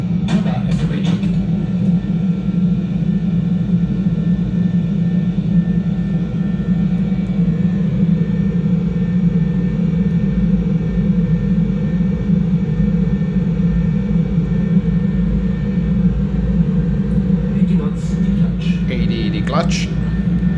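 KLM Fokker 100 jet engines spooling to takeoff thrust in a flight simulator game: a loud, steady, unbroken roar that holds for the whole stretch, with a few faint clicks near the end.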